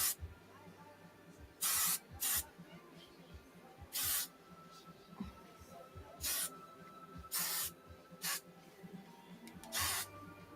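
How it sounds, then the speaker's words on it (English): Short bursts of hairspray are spritzed onto hair, about eight quick hissing puffs spaced a second or two apart at close range over quiet room tone. "now we're gonna hairspray it before we brush it out to look good"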